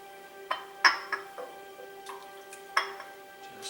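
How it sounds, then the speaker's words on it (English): A spoon stirs buffalo mac and cheese mixture in a pot, giving scattered light clinks and taps against the metal at an uneven pace over a faint steady hum. "Keep stirring."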